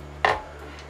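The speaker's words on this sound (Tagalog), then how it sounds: "Hiwain natin ng lemon." A knife slices through a lemon in a single sharp, close cut, followed by quiet room hum.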